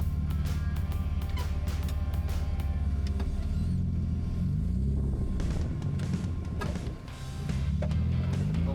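A four-wheel-drive vehicle crawls off-road at Wolfcaves in Mason, Texas, with lockers off and rear steer working. Its engine rumbles loud and steady throughout, rising and dipping with throttle, and no one talks.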